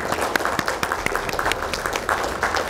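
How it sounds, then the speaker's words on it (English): Audience applause for a graduating class at a ceremony, a dense steady patter of many hands clapping at moderate loudness without a clear break. "let's give everybody just one more round of applause"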